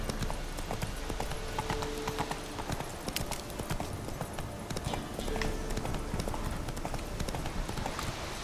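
Hooves of Roach, the horse in The Witcher 3, clip-clop in a fast, steady galloping rhythm throughout, loud and close, with brief game speech now and then over the hoofbeats.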